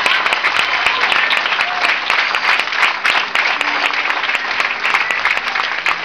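A congregation at a Good Friday sermon claps in sustained applause, a dense, loud, even patter of many hands that keeps going without a break.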